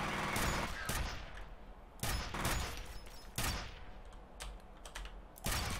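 Stake gun fire in the F.E.A.R. first-person shooter, a series of loud, sharp gunshot-like bursts roughly once per second, each with a crisp attack and short decaying tail over a steady game background.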